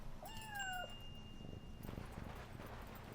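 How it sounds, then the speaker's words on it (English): In the video game Yonder: The Cloud Catcher Chronicles, a cat gives a short rising-then-falling meow, quiet and fairly close, followed by soft rustling game ambience. "I hear a cat."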